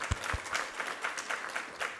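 Church congregation applauding at a Sunday worship service after a scripture reading, steady mid-distance clapping for two seconds with a few low thumps near the start.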